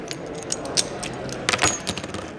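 Coins tossed for a tabletop game, several small metallic clinks and taps scattered across a couple of seconds, close by with light rustling between them.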